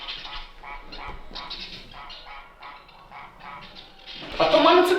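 Geese honk repeatedly in a rapid, overlapping chorus, growing louder and harsher near the end.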